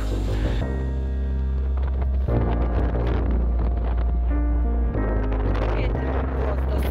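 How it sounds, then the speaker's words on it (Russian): Strong wind gusts buffet the microphone outdoors in almond orchards at Catholic Easter, a loud, continuous low roar that never lets up, with a tonal hum running underneath. "Ветер просто сумасшедший."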